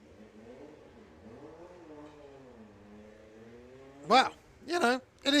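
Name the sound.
air-cooled VW Beetle drag racing car engine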